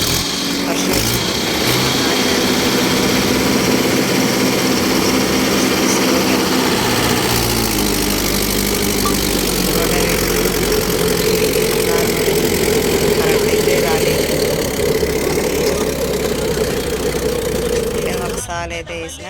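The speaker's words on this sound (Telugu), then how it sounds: "రోటావేటర్ వేసి ఇది అయితే వెనక్కి ఫస్ట్ గేర్తో స్టార్ట్ చేసిన అయితే లోడ్ పడుతుంది బండి" A tractor pulling a rotavator works a field in first gear under load, its engine droning loud and continuous close by, with the pitch shifting slightly partway through before the sound tails off at the end.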